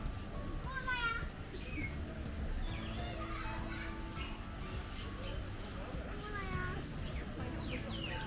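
Bird calls ring out in an aviary holding parrots, storks and water birds: several chirping, warbling cries rise over a steady murmur of ambient noise and distant voices, moderately far and fairly faint.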